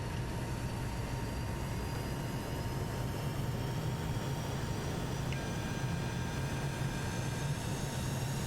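McDonnell Douglas MD-88 airliner engines at takeoff power in the Prepar3D flight simulator, a steady, loud, unbroken roar with a low droning hum and faint whining tones holding level throughout, no voices.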